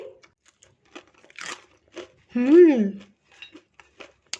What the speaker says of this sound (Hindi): ये देखिए मैं आपको तोड़ के दिखाती हूँ। ये देखिए कितनी क्रिस्पी इसकी ऊपर की सतह है